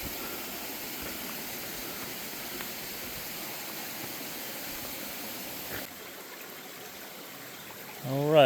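Creek water flowing steadily at a trail crossing near Stiles Falls in Floyd County, Virginia, a constant broadband rush that continues throughout, briefly dipping before a louder burst at the end.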